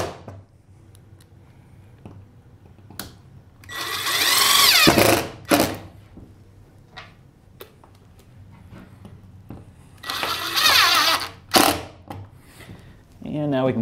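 Wood screws driven into an enclosed trailer wall when a rocker switch is mounted, heard as two loud, sustained bursts of a drill motor, each a second or two long, with quieter handling noises between.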